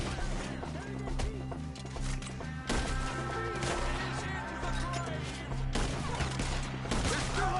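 Gunfire crackles in a PS4 video game, scattered shots and bursts buried in a dense, steady mix of music and combat noise, with people talking over the action.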